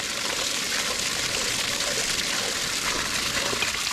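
Water gushes steadily from a swimming pool sand filter's discharge during backwashing, a constant broadband rush that holds an even level throughout with no talk over it.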